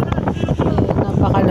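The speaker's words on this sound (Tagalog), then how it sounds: "Sobrang lakas ng hangin dito guys" Strong, very cold wind buffets the microphone in Ilocos, Philippines, in loud, rumbling gusts, with a voice faintly present beneath the roar.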